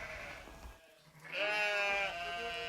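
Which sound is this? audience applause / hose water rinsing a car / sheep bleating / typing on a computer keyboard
sheep bleating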